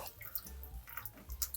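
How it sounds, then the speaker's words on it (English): Canned chickpeas rinsed and drained under running water, with brief close splashes and drips trickling in short uneven bursts. "We're gonna rinse and drain these before they go in."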